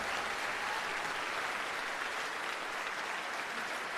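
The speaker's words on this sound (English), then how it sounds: "One more round of applause and bravo to our All County High School Orchestra." An audience gives the All County High School Orchestra a steady, dense round of applause that holds at an even level from start to finish, with no talking over it.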